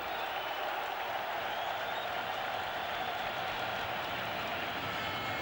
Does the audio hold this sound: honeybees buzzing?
no